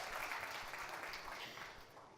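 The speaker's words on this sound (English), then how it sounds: "I think we can have a slightly louder round of applause, ladies and gentlemen" A press meet audience for a streaming series cast and crew gives a round of applause, heard as soft, fairly distant clapping that fades toward the end.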